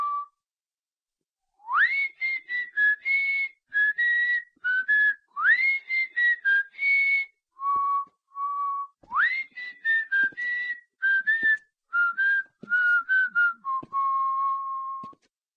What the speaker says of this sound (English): It is just not picking up my whistling.